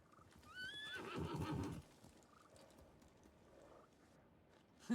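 A samurai's horse in the game Ghost of Tsushima neighs loudly with a shrill whinny, followed by quieter hoof clops and faint movement.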